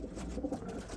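Racing pigeons coo softly inside a breeding loft. The brief, faint cooing sits under a steady wash of background noise.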